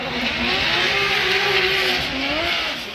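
A Nissan S14.3 drift car with an RB30 engine roars steadily at a Formula Drift qualifying event in New Jersey, its revs rising and falling with tire noise, loud and continuous without pause.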